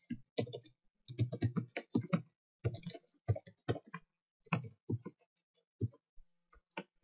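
Someone types a page-not-found message on a computer keyboard while setting up a Debian web server, with bursts of quick close key clicks separated by short pauses and a few lone taps.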